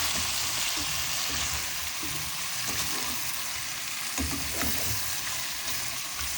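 Roasted chicken stirred in a pan with soy sauce and vinegar gives a steady, loud sizzle, with soft scraping stir strokes breaking through now and then.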